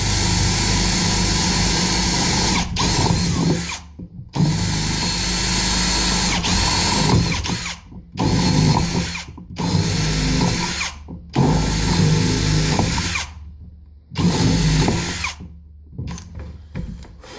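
A power drill with a larger bit boring through an acrylic turkey pot call, running loud and close in long whining bursts separated by brief silent pauses, with shorter runs toward the end.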